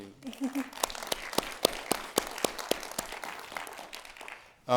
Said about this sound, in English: It's allowed to clap after each of the presentations.